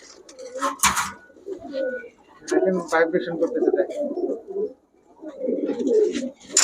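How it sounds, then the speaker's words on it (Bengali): Pigeons at a pigeon market coo repeatedly in soft, throaty bursts nearby, mixed with brief wing flutters and chirps, while someone talks over them. "প্রচুর কবুতর আছে প্রচুর কবুতর আছে"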